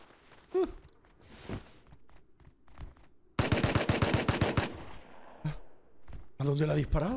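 Gunfire in the video game Rust: a loud rapid automatic burst of about a dozen shots, then a few scattered single shots near and far, with voices talking quietly around them.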